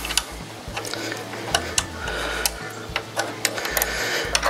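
Mounting bolts on a bicycle disc brake are loosened bit by bit, producing close mechanical ticking and clicking with irregular sharp taps over a low hum.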